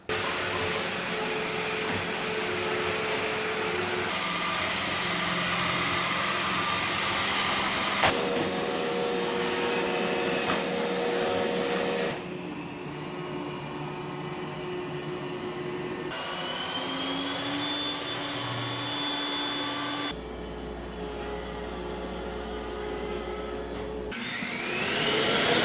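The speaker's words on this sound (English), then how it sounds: "Here's what each vacuum sounds like on hardwoods, carpets, and while emptying" Roomba j7+, i7+ and s9+ robot vacuums take turns on hardwood floor, carpet and self-emptying docks: a steady whirring motor hum that shifts in pitch and loudness between segments, ending in a louder rushing suction burst.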